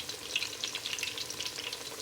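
A steady, close sizzle of eggplant frying in hot canola oil, crackling evenly without pause.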